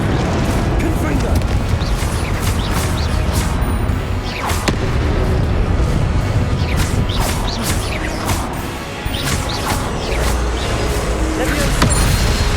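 Confringo blasting spells exploding in Hogwarts Legacy combat, dense, loud booms and crashes layered over a constant rumbling game soundtrack, with a voice speaking at times.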